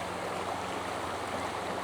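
A fast-flowing trout stream rushes steadily and close by, a dense, unbroken wash of water noise with no voices.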